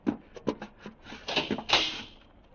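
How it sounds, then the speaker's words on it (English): A door opening in a science-fiction radio drama, heard as a few soft knocks and clicks followed by a longer creaking, scraping sweep, fairly close and heard alone. "Earthman, you will rise from your seat and open that door."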